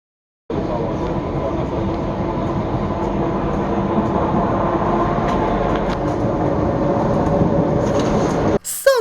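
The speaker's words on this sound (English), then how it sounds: "So I carry on this train into the middle of nowhere" A passenger train rumbles steadily through rural Ukraine at night, its continuous loud carriage noise and rolling rattle filling the whole stretch, with a sharp squeal and clatter near the end.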